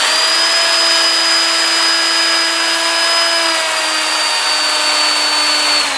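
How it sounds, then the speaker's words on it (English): A wood lathe spins in reverse while a bowl is sanded, giving a steady, loud whine with a sustained tonal hum and hiss that holds without a break. "So I'm going to reverse the lathe."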